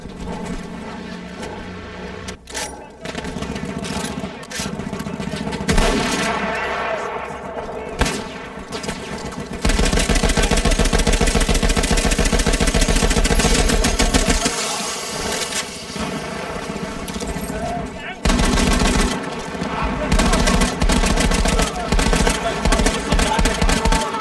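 Sustained machine gun fire from a mounted gun in the World War I shooter Battlefield 1, dense rapid bursts running almost continuously and loud, with battlefield noise and brief pauses between volleys.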